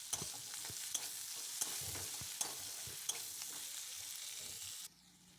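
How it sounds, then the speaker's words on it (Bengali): Onion and garlic fry in oil in a wok, giving a steady hiss and crackle with a few sharp clicks of stirring, close by, before cutting off abruptly near the end. "তো আমি পেঁয়াজ রসুনটা একটু লাল লাল করে ভেজে নেব।"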